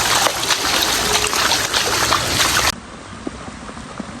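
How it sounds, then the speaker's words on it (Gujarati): Rainwater runs across a flooded village yard where buffaloes sit out in the rain, a loud steady rushing and trickling that suddenly drops to a quieter flow. "તમે જુઓ પાણી પણ જઈ રહ્યું છે."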